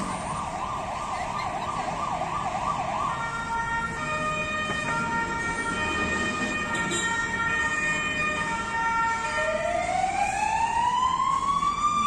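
Fire truck siren wailing as firefighters arrive at a building with thick smoke pouring from its underground level, a rising and falling tone close by over steady traffic rumble, climbing sharply again near the end.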